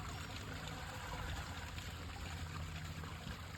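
Soapy grey water flows steadily through an RV sewer hose while a motorhome tank is emptied, a continuous low rushing trickle that stays even and moderately quiet throughout, with no talking.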